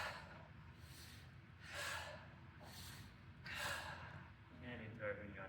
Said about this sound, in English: Come into our 3 big breaths.